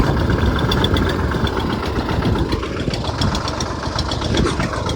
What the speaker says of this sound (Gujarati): એ જો ખોરીઓ કરે ટ્રેક્ટરથી